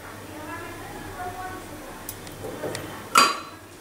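A pan on a lit gas stove is handled while cooking oil is poured in, giving a clear metallic clink near the end over a quiet kitchen background with some talk.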